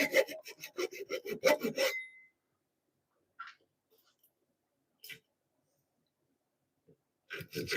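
Crosscut side of a handsaw biting into wood in a home workshop: about eight quick rasping strokes up close, then near silence broken by a few faint knocks and scrapes.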